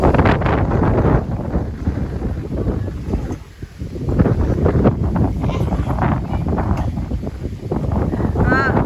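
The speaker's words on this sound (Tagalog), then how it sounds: "Nice, grabe na kay ang hangin." Strong wind buffets the microphone with a steady, heavy roar, rising and falling throughout, with faint voices now and then beneath it, at a rainy viewpoint in Cagayan de Oro.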